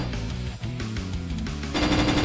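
Rapid machine-gun style gunfire in the video game Evoland 2, a dense loud burst of shots over tonal game music that swells near the end, with no voices.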